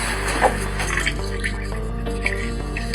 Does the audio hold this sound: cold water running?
yes